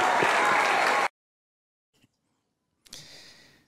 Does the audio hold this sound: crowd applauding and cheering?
yes